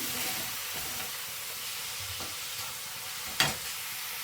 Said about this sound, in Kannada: ಸೊ ಈ ರೀತಿ ಲೋ ಫ್ಲೇಮಲ್ಲಿ ಇಟ್ಟು ಸ್ವಲ್ಪ ಚೆನ್ನಾಗಿ ಫ್ರೈ ಮಾಡ್ಕೊಳ್ಳೋಣ.